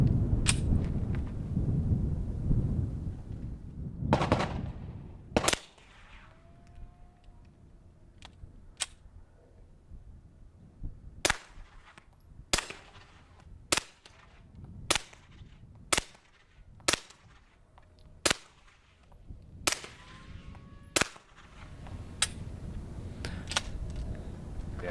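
Suppressed rifle shots through an AAC Illusion suppressor at an outdoor range: a string of about twelve sharp, muffled cracks at irregular intervals, mostly spaced a second or two apart, with quiet ambient noise between.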